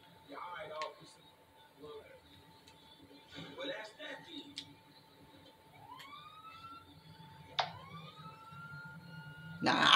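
Police siren from a cop chase in the video game Grand Theft Auto V, rising wails sweeping up in pitch several times, moderately loud amid game noise and talk, ending in a loud burst.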